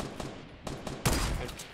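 Gunfire in the Fortnite battle royale game comes as a few rapid bursts of shots, with a louder close volley near the end and no speech over it.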